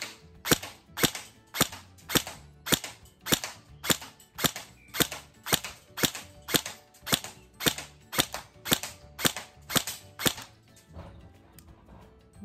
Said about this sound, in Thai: มาดูการยิงครับใส่แม็กแล้วขอเนี่ยยิงเป้